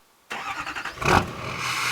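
A 6.6-liter LML Duramax diesel truck engine catches after a short silence and settles into a steady running rumble, swelling briefly as it starts, loud and close with no talk.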